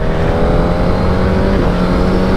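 A 2021 Suzuki GSX-R 1000 A motorcycle engine pulls hard under acceleration, a loud, dense, continuous roar close by with no voices.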